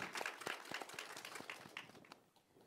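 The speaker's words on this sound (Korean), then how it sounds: "박수 부탁드립니다." An audience applauds at a Korean directors' awards event panel, a thin, distant patter of clapping hands that thins out and fades toward the end.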